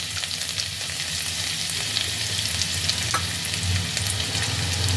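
Chopped garlic fries in hot white oil in a pan, a continuous close sizzle with light stirring scrapes, no voices.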